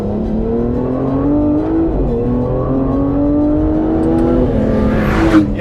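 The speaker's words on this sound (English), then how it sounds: "if you want to just rev this out and be a lunatic at a stoplight, it doesn't really make any crazy sounds" A 2025 Aston Martin Vanquish twin-turbo V12 revs up close, a smooth, loud engine note climbing and dipping in pitch with a brief whoosh near the end.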